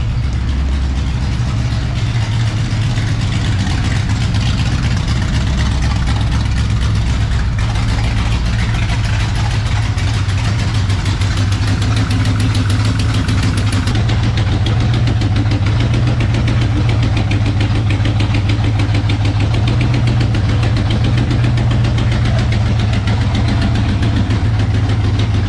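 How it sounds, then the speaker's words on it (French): A car engine idles steadily after tuning, a continuous low rumble with a fine mechanical ticking running through it, close and alone. "maintenant que c'est fait, on a récupéré un ralenti convenable"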